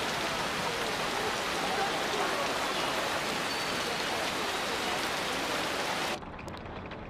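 Heavy rain pours down outdoors in a steady, dense hiss that fills the whole stretch, close and loud, then drops off sharply near the end; no talk is heard.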